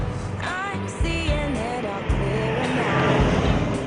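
Old vintage car driving along Route Nationale 7 in France near Fontainebleau, its engine note rising and falling steadily throughout, with people talking over it.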